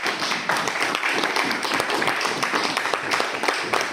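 A church congregation applauds the Lord in a dense, steady wash of clapping that keeps on without letup, with faint voices mixed in.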